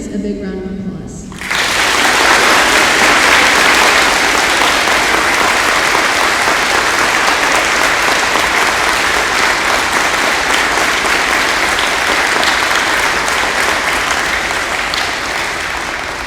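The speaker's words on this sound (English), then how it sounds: "Let's give them and their families a big round of applause." Audience at a high school Marine Corps JROTC awards ceremony breaking into a long, loud, sustained round of applause for senior cadets and their families, starting after a brief spoken moment.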